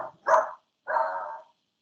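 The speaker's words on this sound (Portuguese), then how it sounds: "Agora o cachorro é aqui, viu?" A dog gives two short barks close by, the first a sharp single yelp and the second a longer, drawn-out bark, with silence between and after.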